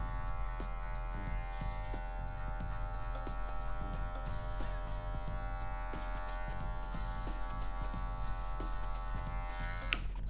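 An electric hair clipper fitted with a number 2 guard steadily buzzes while cutting excess hair on a medium fade haircut, a continuous close, even drone with small fluctuations as it passes over the head.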